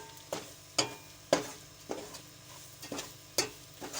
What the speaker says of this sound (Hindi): बस अब हमारी सूजी ने घी छोड़ना शुरू कर दिया है, तकरीबन ये भुनने के करीब हो गई है।